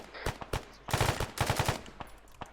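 Gunfire from the video game Arma 3 crackles in short bursts, sharp rapid shots that build into a dense automatic volley mid-way and then break into scattered single reports, fairly close and loud.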